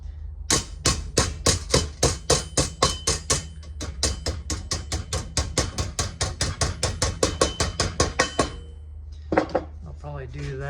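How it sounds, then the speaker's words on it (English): A hammer strikes a metal vehicle grill on a workbench in a long, rapid, steady run of sharp metallic blows. The blows are loud and close and end in a short burst of speech. "We might need to hammer a little because it's not quite wanting to go."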